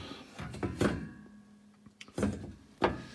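Heavy old cast-iron door of a 140-year-old Husqvarna 45A wood heater being handled, giving a few separate dull thunks and knocks with a faint metallic ring between them, close by and without speech.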